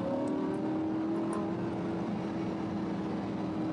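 A car engine revving hard on a road driving course, a loud sustained drone heard from inside the car with a steady pitch and faint road and wind noise beneath.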